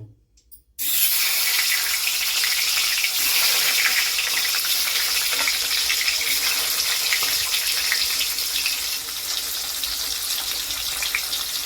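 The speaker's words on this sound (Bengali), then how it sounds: "এবার এই আলুগুলোকে ভেজে নেব।" Potatoes dropped into hot oil for a Bengali egg curry: after a short quiet moment, a loud, dense sizzle bursts in and continues steadily, close and unbroken.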